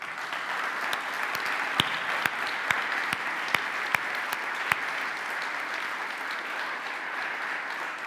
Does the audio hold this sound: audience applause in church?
yes